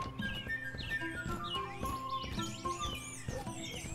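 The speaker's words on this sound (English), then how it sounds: "we're not going to talk about the little crows on top of it?" Crows chirp in the video game Haimrik, small tweeting calls scattered over a busy, continuous game soundtrack at moderate volume.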